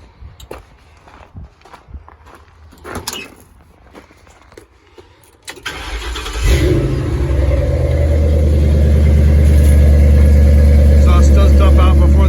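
Footsteps and shuffling come first, then a truck engine from a Crown Victoria swap with the catalytic converters removed fires up and settles into a loud, steady, rumbling idle close by, with a voice talking nearby.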